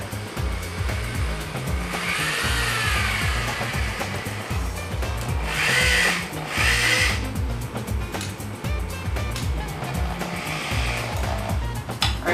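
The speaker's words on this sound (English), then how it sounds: "push the bracket flush against the pole and start drilling my hole." A power drill drills a hole through a bracket pressed against a pole, whirring steadily with a grinding, ratcheting edge, swelling louder in a couple of bursts before settling back, close by and without voices.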